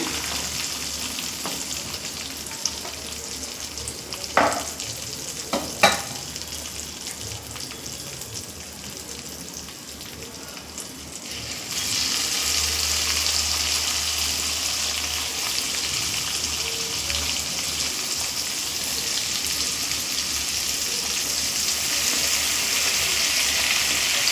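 Pieces of bocha fish lightly frying in oil: a soft sizzle with a couple of sharp utensil clinks early on, then a louder, steady, hissing sizzle for the remaining half, with no voices.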